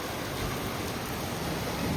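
Heavy first-monsoon rain pours down at night in Surat, a dense, unbroken hiss close by with no voices.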